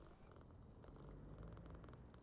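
A pet cat in the game PowerWash Simulator 2 purrs in a low, steady, continuous rumble, faint but unbroken, with no other sounds over it.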